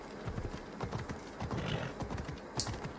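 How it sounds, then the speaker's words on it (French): Horse hooves clip-clop in a steady, brisk rhythm while riding in Assassin's Creed Odyssey, the trotting beat close and continuous with a faint whinny-like touch. "C'est dommage que je peux pas aller plus vite avec le cheval, hein, pour être honnête."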